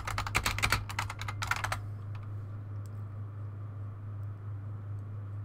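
Rapid bursts of keystrokes on a computer keyboard, close and clear, in two quick runs over about two seconds before trailing into quiet room hum.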